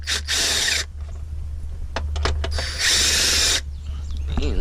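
Ratchet with a deep socket loosening a bracket in an RX-8 engine bay, close loud bursts of rapid ratcheting clicks separated by scattered metallic taps and handling noise over a low steady hum.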